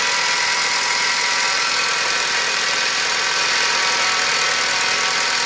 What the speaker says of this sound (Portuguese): Olha o barulhento do motorzinho aí